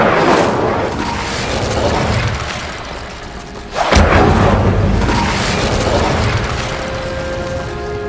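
A fire spell cast in the Hogwarts Legacy video game sets off a rumbling, crackling burst, with a sharp booming blast partway through that then settles into a continuous roaring, whooshing fire sound.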